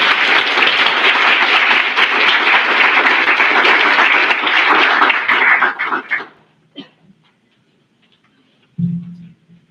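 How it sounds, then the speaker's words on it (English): An audience at a dietetic internship white coat ceremony gives a final round of applause for the graduating class, loud, dense clapping that lasts about six seconds and then thins out to a few stray claps. "One last round of applause for the class of 2025."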